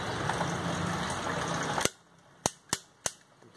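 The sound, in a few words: torque wrench clicking while tightening Maruti 800 cylinder head bolt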